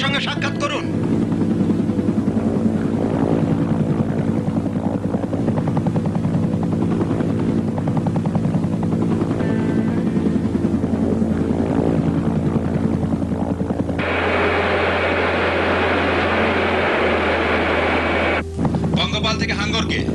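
Military helicopter flying toward a landing point in a war film, a loud continuous rotor and engine roar with wind buffeting, while radio-style voices talk over it and the tone shifts near the end.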